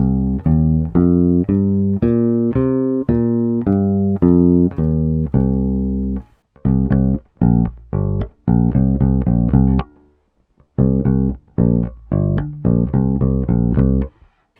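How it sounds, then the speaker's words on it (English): Solo bass guitar with flatwound strings playing a warm, rounded line, first smooth sustained notes, then short choppy plucked phrases separated by brief silences. "Now let's hear how it sounds on the flat wound bass."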